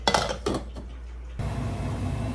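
A few metallic clanks of a lid being set on a pot of simmering fish in tomato broth, quick clatters at the start, followed by a steady low hiss of cooking.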